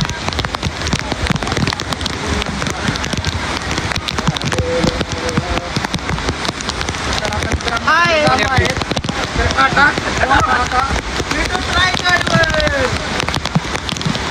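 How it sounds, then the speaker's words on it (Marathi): Heavy rain pours at Bhushi Dam, Lonavala, a loud, dense and steady roar of drops on surfaces throughout, with voices talking faintly beneath it partway through. "आता पाऊस वाढला"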